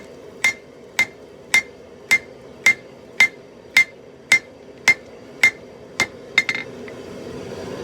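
Hammer blows forging a scrap-pile Damascus billet over an anvil horn: twelve sharp, evenly spaced metallic strikes ring out loud and close, ending in a quicker double hit before a quieter tail.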